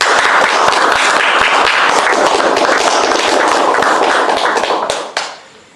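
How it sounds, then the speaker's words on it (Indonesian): Loud, dense applause fills a room at a village Youth Pledge Day event, with many hands clapping close by in a steady roar that thins and stops near the end. "Sekali lagi beri tepuk tangan yang meriah untuk beliau."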